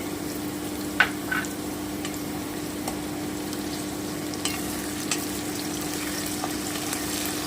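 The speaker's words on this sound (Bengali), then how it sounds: "আমি ভালো করে ভেজে নিচ্ছি" Beans, green chillies and tomato frying in a pan, a soft continuous sizzle with a few light scrapes and stirring clicks scattered through.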